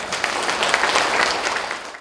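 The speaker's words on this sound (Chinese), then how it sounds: "所以我们跟在座伟大的爸爸来鼓鼓掌。" Audience applauding the fathers at a Father's Day celebration honouring model fathers, a loud, dense crowd of hands clapping continuously and close, tapering off at the end.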